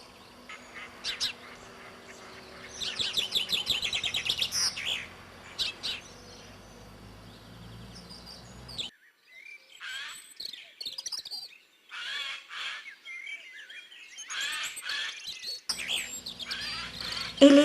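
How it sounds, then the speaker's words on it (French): A common chaffinch sings in spring as winter thaws, its bright chirping phrases repeating in bursts, first over a steady background hum, then in clearer, separated song phrases among other fainter bird calls. "Un pinson des arbres enchante nos oreilles de sa belle ritournelle."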